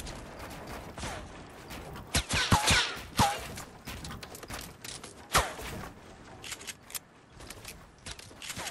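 Gunfire in the Fortnite video game: several sharp, loud shots burst out in the middle of the stretch, with softer clicks and mechanical handling sounds in between and no talking.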